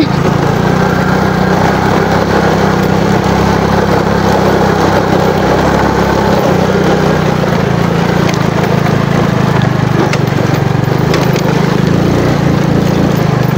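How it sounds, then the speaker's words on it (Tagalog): A motorcycle engine runs steadily and loudly throughout on a climb up into the hills, a continuous close drone with a mid-pitched growl and no clear talking. "Grabe ang motor."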